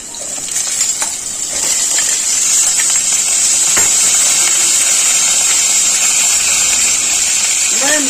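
Diced potatoes hit hot oil with fried cumin seeds for jeera aloo, producing a loud, steady, close hiss and sizzle that stays constant throughout, with a voice speaking over it.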